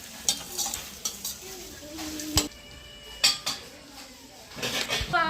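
A spoon scrapes and clinks against a pan as fried vegetables for vegetable noodles are stirred, in several short bursts over a soft sizzle, with a quiet voice in the background.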